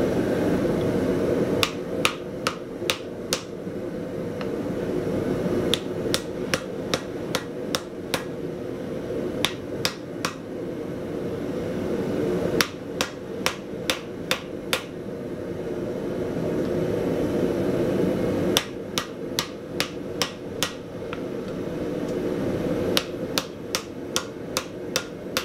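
A hammer strikes a steel coil on an anvil to tighten it, sharp metallic blows in quick bursts of about five to six hits with short pauses between, close and loud over a steady workshop hum.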